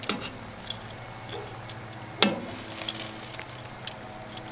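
Beer brats on an Oklahoma Joe's Blackjack kettle grill give off a steady, moderate sizzle with faint ticks and one sharp clatter partway through as they are flipped.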